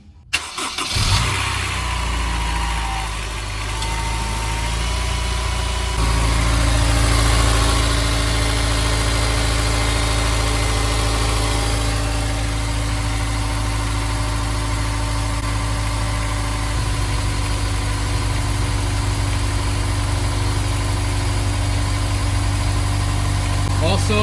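A Honda S2000 engine starts and settles into a steady, loud idle with constant low rumble and vibration, heard close up with no talking over it.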